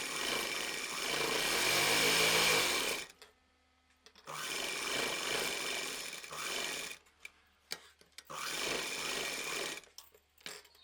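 Sewing machine stitching along the edge of the back tie belt of a frill frock, running in three long, steady bursts with short quiet pauses between them, close and clear.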